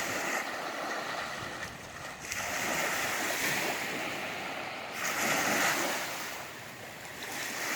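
Waves wash onto the Lake Superior shore in two broad swells of hissing surf, rising and falling over steady low wind rumble, with no voices.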